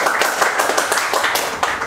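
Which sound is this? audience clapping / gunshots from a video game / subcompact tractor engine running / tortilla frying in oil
audience clapping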